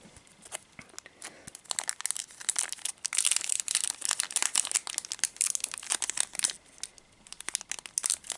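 An older Pokémon card booster pack wrapper is torn open by hand, producing close, loud crinkling and tearing that builds into a dense burst of crackles midway before easing into scattered rustles. No one talks.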